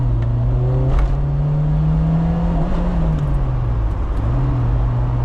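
A Volkswagen Golf GTI Mk1 engine droning loudly from inside, its pitch climbing, dipping briefly, then climbing again as it revs through second gear, choking slightly around 5000 RPM.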